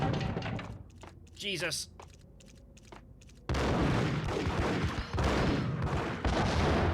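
Max Payne firefight with grenade blasts and gunfire: loud, dense bursts and booms filling the second half, after quieter gun clatter, with a man's brief exclamation.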